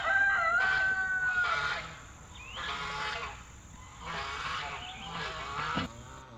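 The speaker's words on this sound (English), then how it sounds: "Welcome to Goose Pond Hideout, the land of geese. Honk, honk, honk, honk, honk." Loud honking calls from geese come in several separate bursts with short pauses between them, close and clear, with no talking.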